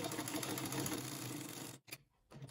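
Sewing machine stitching the lining side of an Ankara print jacket, a steady close mechanical hum that cuts off near the end, followed by a brief faint click.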